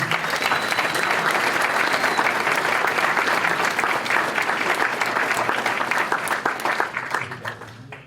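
Audience applause for Hall of Fame inductee Gary Jacobson at the Albert Lea induction ceremony: dense, sustained clapping from a full room that holds steady for several seconds before tapering off at the end.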